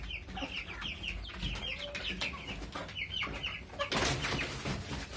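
An Ottoman sultan rooster clucks in a rapid series of short, close calls, with a burst of flapping or scuffling near the end.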